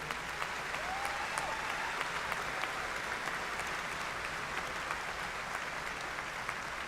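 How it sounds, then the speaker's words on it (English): Sustained applause from a commencement audience honoring faculty at a 2022 spring graduation ceremony, an even wash of clapping from a large crowd with a brief spoken word near the start. "could you please give them a big round of applause for all the work they've done to get you here?"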